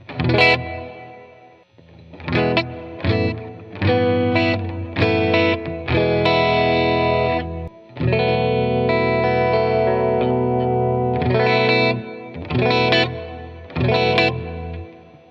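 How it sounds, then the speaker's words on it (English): Electric guitar through a Strymon Flint reverb pedal with a light reverb, playing loud, distorted chords and riffs in rhythmic phrases with brief gaps and a gentle decaying tail. "I want to jump over here to the Strymon Flint. I usually kick this reverb on"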